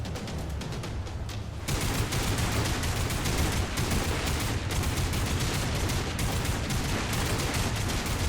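Video game gunfire in Lost Planet 3, a dense, continuous burst of rapid shots that starts abruptly and stays loud and close for several seconds.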